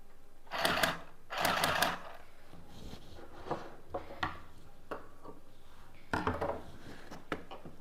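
An Akiara mini sewing machine whirs in a few short, close bursts, separated by quieter clicks and taps of handling.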